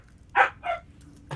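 A dog gives two quick barks close by, then a shorter third yip after a brief pause, against a quiet background.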